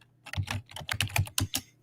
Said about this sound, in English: I'm having trouble typing at